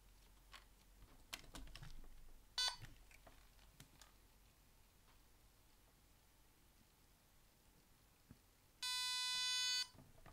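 Two electronic beeps from a LEGO Mindstorms EV3 robot, a short one early and a longer steady tone near the end, with soft clicking and faint motor noise in between as a wheel motor runs at slow speed.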